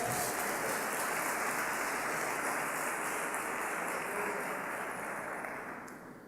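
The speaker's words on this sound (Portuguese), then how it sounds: "Se eu fosse você, eu dava uma salva de palmas a Ele." Dense, steady applause from a large church congregation fills the space, a broad continuous patter of many hands that tapers slightly toward the end.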